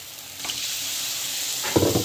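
Water poured into masala frying in a pan makes a sudden burst of louder sizzling and bubbling near the end, following a steady low frying hiss; no voices.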